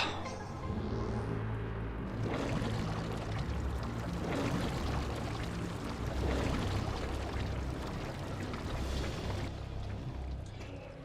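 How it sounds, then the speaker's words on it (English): A liquid pours in a steady, rushing stream from a pump in Metroid Prime 3: Corruption, loud and continuous with swelling surges and no talk over it. "prime that pump"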